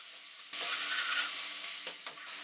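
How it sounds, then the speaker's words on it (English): Coriander and cumin seeds with spices for a vegan coconut curry hit a hot pan with a sudden loud sizzle that holds steady, with a couple of brief stirring scrapes near the end. "Now add our coriander and cumin seeds, let it cook out a little bit"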